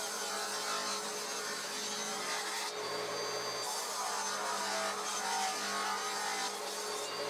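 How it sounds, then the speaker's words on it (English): Table saw ripping salvaged oak hardwood in multiple passes, a continuous whining roar of blade and motor with a brief dip in load midway, close and steady with no talking. "I first ripped two slices to 15mm on the table saw. I did this in multiple passes to go easy on the blade as it's a hardwood."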